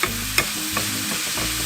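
Ground beef sizzles steadily in a hot pan while a utensil chops and stirs it, a few sharper scraping knocks rising over the continuous frying hiss; no one speaks.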